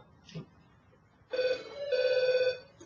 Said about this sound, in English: just got a phone call, which I don't want.